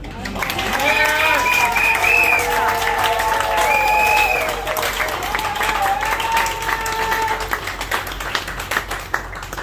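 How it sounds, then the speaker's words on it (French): Applause and clapping ring out over voices singing or chanting, loud at first, then thinning toward the end. "J'applaudis beaucoup."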